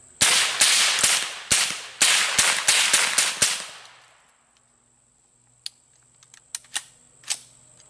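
A small .22 firing system looses a rapid string of loud, sharp gunshots, some coming in close doubled pairs, then falls quiet before a few fainter clicks and pops.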